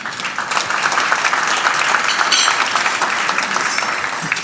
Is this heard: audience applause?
yes